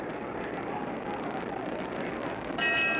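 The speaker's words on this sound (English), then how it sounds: "There's the bell for round 2." A bell sounds in a boxing ring to end round two of a heavyweight fight between Muhammad Ali and Ernie Terrell, ringing bright and sustained near the end over loud, steady arena crowd noise.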